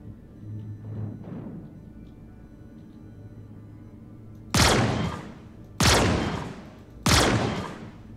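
Three loud, sharp gunshot bursts ring out in a Star Citizen bounty mission, each a broadband blast with a short decaying tail, spaced about a second apart after a stretch of low ambient hum.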